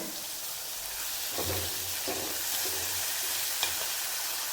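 Steady sizzling of ground tomato frying in a pan for a fish curry, with occasional stirring scrapes, quiet and continuous with no talking.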